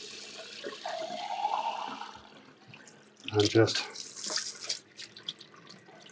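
Cold tap water runs over a squid tube being rinsed in a school kitchen sink, a splashing stream with wet gurgles and brief louder bursts as the tube is handled, while a person speaks a few words.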